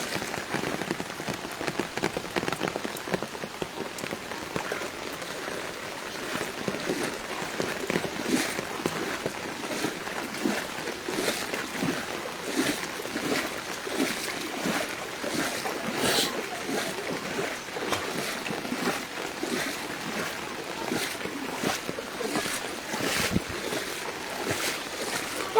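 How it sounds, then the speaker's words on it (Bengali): Someone wades along a flooded road during the 2025 Feni Parshuram flood. Sloshing, splashing steps repeat through the water against a constant wash of water and rain-like noise. "এখন পানির মধ্যে হাঁটতেছি"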